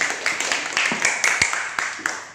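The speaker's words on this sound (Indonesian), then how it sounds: "Tepuk tangan untuk teman kita sekali lagi." A few people in a classroom clap for a classmate, a short burst of sharp, uneven claps close by with a voice briefly in the mix.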